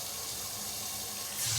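Water rushes steadily from a shower tap in a hotel room on the 81st floor of the Park Hyatt Shanghai, a loud continuous hiss that swells slightly at the end.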